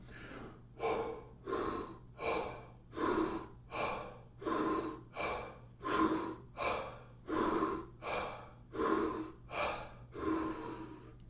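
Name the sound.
deep breathing exercise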